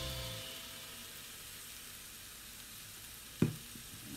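Cabbage fries in a pan with pepper powder, giving a soft, steady sizzle; near the end a spoon stirs it with a short clatter and a scrape.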